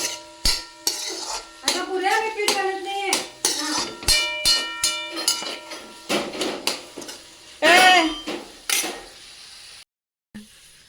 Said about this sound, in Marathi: आता त्याच्यामध्ये आपण घालतोय टोमॅटो टोमॅटो मऊ होईपर्यंत आपण ह्याला परतून घ्यायचं